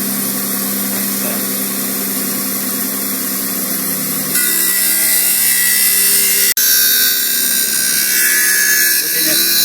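Steady loud whirring drone of grinding wheels shaping an eyeglass lens in a glazing machine, continuous throughout with a shift in pitch partway and a brief click.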